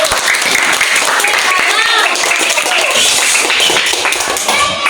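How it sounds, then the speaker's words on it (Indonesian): Classroom students clapping after a group presentation on the island of Java, a brisk burst of many hands close by, steady and loud for the whole stretch. "tepuk tangan."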